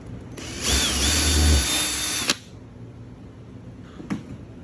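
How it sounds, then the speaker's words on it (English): A power drill runs a number 30 reamer through rivet holes in an aircraft wing, a loud close whine for about two seconds that cuts off sharply, followed by quiet and a single faint tap. "I'm going to come with my number 30 ream, and I'm going to open up those holes to a nice round number 30"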